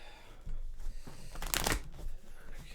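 A deck of tarot cards is shuffled close up, a quick riffling burst with crisp papery flutter and soft taps before and after.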